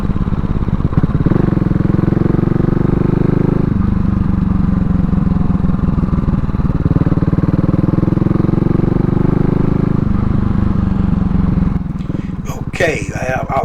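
A CCM Spitfire Bobber motorcycle engine heard while riding, a loud close thrumming drone that rises and falls as the rider shifts through gears, with wind buffeting, then easing off near the end.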